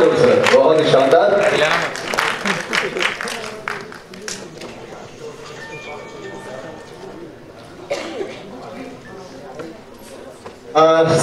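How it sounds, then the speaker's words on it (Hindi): An audience at a media award ceremony breaks into a burst of applause, strongest at the start with another swell later, with a voice talking over the clapping throughout. "क्या बात है, जोरदार तालियां।"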